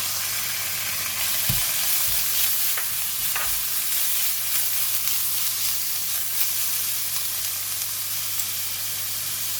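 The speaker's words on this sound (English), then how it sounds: "Garlic is ready, so I'm going to put in the meat now." Minced pork goes into a hot pan with garlic and stir-fries with a loud continuous sizzle, broken by occasional scraping and clanking of the spatula against the pan.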